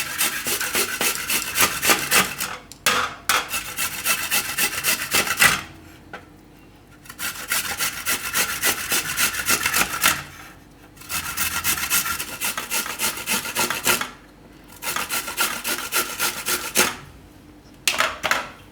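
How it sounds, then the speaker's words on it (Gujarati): Whole amla (Indian gooseberries) rubbed hard against a hand grater, making loud, close rasping strokes in long rhythmic runs, split by a few short pauses as the fruit is repositioned, with no voices. "બધા આંબળા રીતે છીણી નાખશું."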